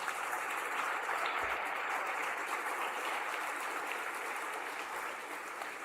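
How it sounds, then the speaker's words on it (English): A crowd at a high school graduation ceremony applauds in a broad, sustained wash of clapping that stays loud and steady for nearly six seconds before easing slightly at the end. "Big round of applause for them"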